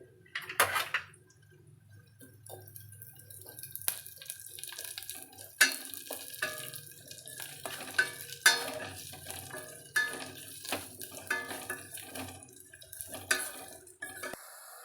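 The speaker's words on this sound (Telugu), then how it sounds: "కరివేపాకు కొంచెం వేపుకోవాలండి" Curry leaves fry in a pan with a soft, steady sizzle, broken by scattered clinks and scrapes of a utensil against the pan, close and fairly quiet.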